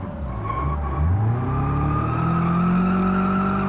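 A Polish limousine in BeamNG.drive revs hard near the edge of grip, its engine pitch sweeping upward and then holding a loud, steady whine, with a faint tire scrub underneath.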